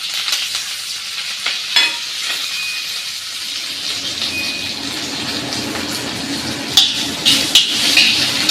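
Curry leaves sizzle in hot oil with a steady hiss, broken by sharp spluttering crackles and pops that grow busier toward the end.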